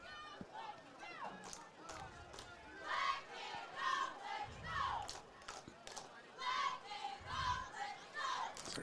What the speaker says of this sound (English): cheerleaders work to get this subdued crowd into the game